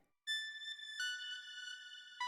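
A bright synthesized bell tone rings out with sustained, shimmering harmonics, struck again midway and once more at the end, heard alone.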